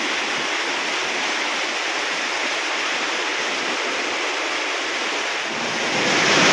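Heavy overnight rain and strong wind from Typhoon Tino lash a rural farm, forming a dense, steady roar with no let-up that swells louder toward the end.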